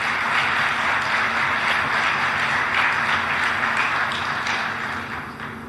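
An audience at the Lansing State of the City 2024 address applauds first responders: a dense, steady wash of clapping from a large crowd that holds evenly and then tapers off near the end.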